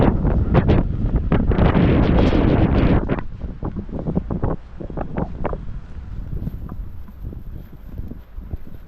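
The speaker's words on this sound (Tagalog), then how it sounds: "Medyo po at medyo mahangin po." Strong wind at a fishing spot buffets the microphone in loud, roaring gusts, heaviest in the first few seconds, then settling into a steadier rush with rumbling bursts.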